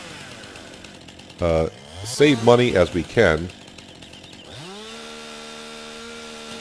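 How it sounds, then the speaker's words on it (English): A chainsaw in Farming Simulator 19 cuts up a felled tree, engine bursts revving and dropping before settling into a steady idle, with someone talking briefly at the start. "So right now I'm just cutting up this tree into little pieces."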